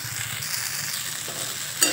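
Sabudana and roasted peanuts stirred in a frying pan, a steady soft sizzle with scraping spoon strokes throughout and a brief sharper scrape near the end, no voices.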